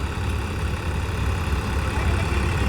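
A tractor engine idles steadily, a continuous low rumble with constant loudness and no talk.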